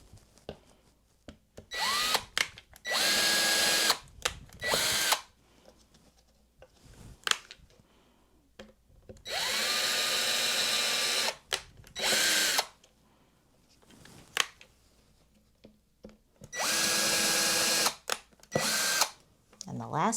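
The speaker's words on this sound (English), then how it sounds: "we're going to pre-drill the holes for the offset clips" A power drill pre-drilling screw holes for offset clips on a canvas frame whirs in repeated short bursts, several separate runs of a few seconds each, with clicks and handling noises between them.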